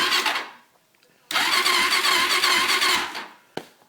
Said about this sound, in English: It's nice to know that the electric starter is not burnt out